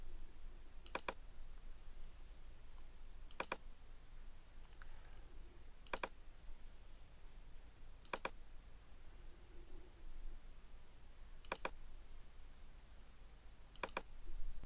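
Mouse clicks at a computer while working in ArtMatic software, six sharp, isolated clicks spaced a couple of seconds apart over a steady low hiss, no voices.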